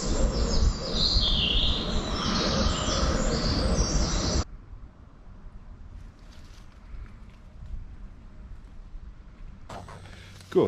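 Birds chirp and trill in woodland in the morning beside a Land Rover campervan, bright and layered for the first few seconds, then the scene drops to quiet ambience with a faint voice.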